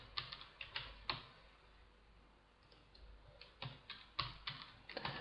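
Someone types a password on a computer keyboard, quick clusters of light key clicks separated by a short pause, quiet and close, with no voices.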